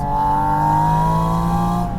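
Porsche Boxster Spyder RS engine droning at steady revs, loud and close, its strong tonal hum rising slightly in pitch across the stretch with no talking.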